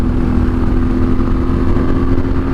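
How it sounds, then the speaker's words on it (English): A 2016 Yamaha Super Tenere motorcycle pulling hard at about quarter throttle, its engine a loud, steady, close-up drone with no pauses and no talking. "this is maybe quarter throttle, and it's just, it pulls so hard"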